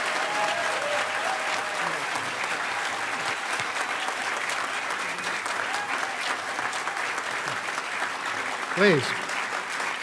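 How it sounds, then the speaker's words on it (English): A conference audience at the HOPE Number Nine closing ceremony gives sustained, dense applause throughout. A brief voice is heard near the end. "Huge, huge round of applause."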